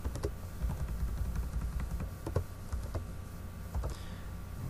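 Quiet typing on a computer keyboard, a run of light, irregular key clicks spread over a few seconds, close and fairly soft, with no talking.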